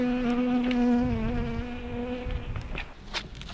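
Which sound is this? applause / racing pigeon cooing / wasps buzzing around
wasps buzzing around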